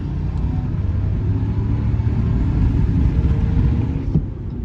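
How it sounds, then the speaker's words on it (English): A Ram 1500 Limited pickup's deep, rumbling V8 drones steadily and loudly up close, with a faint rise in revs near the end. "You listen to that V8."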